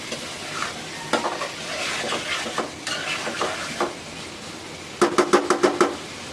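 Potatoes sautéed in a pan on a two-burner home stove, stirred with a utensil over a low sizzle: scattered scrapes and clinks, then a quick run of sharp, evenly spaced strokes near the end.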